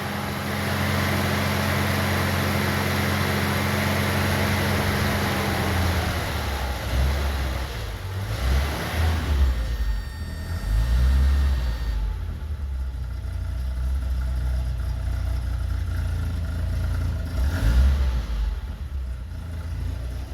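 A 1982 BMW 320i engine running rough as the gas pedal is pushed, with low uneven revving swells and dips that threaten to stall, close and steady throughout with no talk over it.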